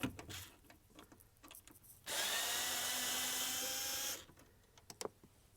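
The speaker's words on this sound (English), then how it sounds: "Guess that is a very crusty snap-on drill driver there" A worn, crusty Snap-on drill driver whirs for about two seconds, loud and close, between quieter clicks and handling noises during dashboard work on a 2014 Ford F-150.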